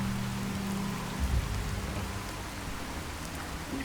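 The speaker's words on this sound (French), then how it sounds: "Il pleut, ils ont de la chance." Steady, dense rain hisses evenly throughout in Fallout 4, with a faint low rumble underneath and no voices.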